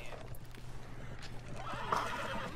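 A brief horse neigh and clopping hooves rise near the end of a quiet Red Dead Redemption 2 scene, fairly close and moderately loud over a steady low hum.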